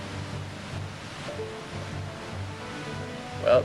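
Steady rushing water noise of a waterfall in the video game Zelda Ocarina of Time, a broad continuous wash with no speech and a brief brighter blip near the end.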